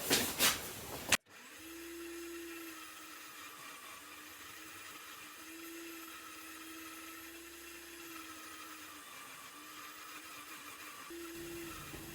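A woodturning chisel is sharpened on a motorised tool, giving a steady, even whine with soft grinding that runs continuously for about eleven seconds after a brief loud burst at the start.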